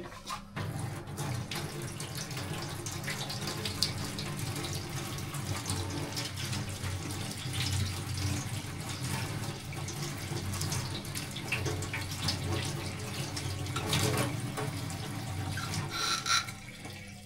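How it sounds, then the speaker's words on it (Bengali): Tap water runs continuously into a sink as potatoes are washed, a steady close splashing stream with small bursts of handling throughout. "তো প্রথমে আমরা আলুগুলোকে ধুয়ে নিচ্ছি।"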